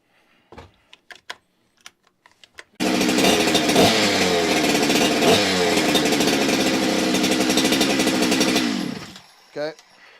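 A Husqvarna 372XP chainsaw with its stock OEM muffler roars loudly and steadily at full throttle for several seconds, then cuts off, following a few sharp knocks and clatters in a saw shed.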